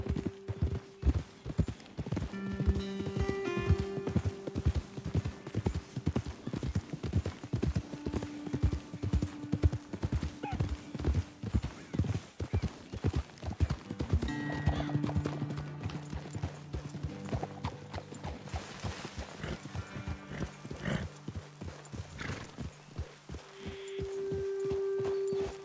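Horse hooves in the video game Red Dead Redemption 2, a steady rhythmic clip-clop of hoofbeats close by for most of the stretch that slows and loosens later, with low tonal hums from the game beneath.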